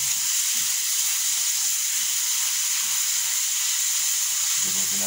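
Food fries in a pan with a steady, loud sizzle and hiss while it is stirred now and then, in a quick Filipino home-style dish seasoned with MSG.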